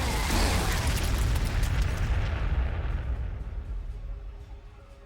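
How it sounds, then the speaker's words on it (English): Frag missiles burst in Warhammer 40,000: Sanctus Reach, a loud cluster of deep booming explosions that roll together and then fade into a long, rumbling decay with no talk. "Fire some frag missiles in here."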